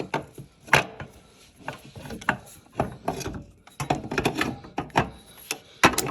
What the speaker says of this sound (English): Now I can bolt it back up like that, ready to go.